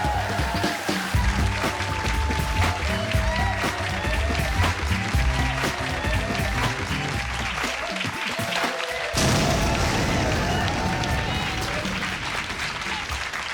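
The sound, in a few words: audience clapping and cheering for comedian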